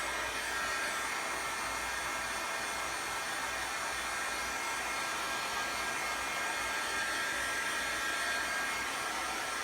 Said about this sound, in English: So you can heat it up with the heat gun.